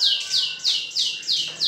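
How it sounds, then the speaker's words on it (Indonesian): A canary in a round red cage, kept as a master song bird at a bird dealer, repeats five bright, sweeping whistled notes in a steady rhythm, loud and close. "Masteran kenari di sangkar bulat warna merah."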